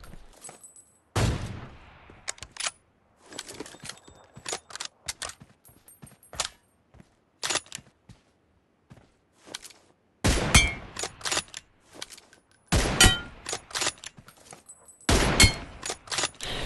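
AWM sniper rifle shots in a mobile shooting game: several loud, sharp cracks spaced seconds apart, each followed by a brief ringing tail, with lighter clicks and clinks of in-game handling between them.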